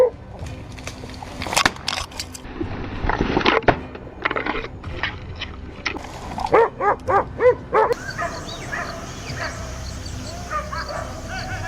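Hunting dogs bark and yip in scattered, excited bursts while chasing a wild boar in thick brush, some close and loud, others farther off, with whimpers and rustling amid the commotion.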